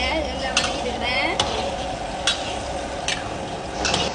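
Chopped onions sauté in oil in a pan for egg kurma, giving a steady close sizzle and crackle broken by a few sharp clicks of a spoon or spatula against the pan.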